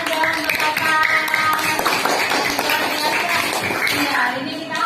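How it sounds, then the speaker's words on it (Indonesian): A primary school class claps for a student: a loose burst of many small hands clapping, close and lively, mixed with children's voices and chatter throughout. "Tepuk tangan dong untuk kakak."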